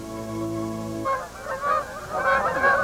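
A flock of geese taking flight honks in repeated overlapping calls, moderately loud, following a steady tonal hum that cuts off at the start.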